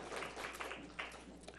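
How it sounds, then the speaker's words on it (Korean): A church congregation at a Korean Sunday morning worship service at Eunpyeong Church claps together in a dense, continuous wash of applause, steady and even throughout, heard from within the sanctuary. "하나님께 영광의 박수를 드립니다."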